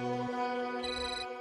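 Phone ringing indoors, a brief electronic ringtone with steady tonal notes shifting in pitch, fairly quiet and alone.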